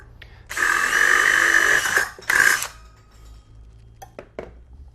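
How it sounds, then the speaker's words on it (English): A power drill whirs loudly for about a second and a half, stops, then runs again briefly, followed by a few light clicks and taps. "Now when drilling, don't apply too much force."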